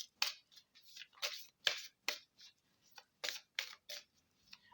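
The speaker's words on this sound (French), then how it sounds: "on va prendre une carte" Oracle cards from a tree-of-life deck being shuffled and drawn, a series of short crisp papery swishes and snaps in irregular bursts, close and fairly quiet with no talking.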